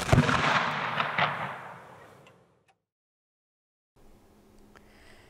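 A ceremonial gun salute volley fired on command at a university convocation. A loud, sharp blast rings out with a second crack close behind and an echo that fades into silence.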